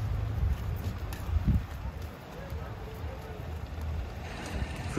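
Boat ride in Phuket, a low churning engine rumble mixed with steady wind buffeting against the microphone, with brief bumps and gusts throughout.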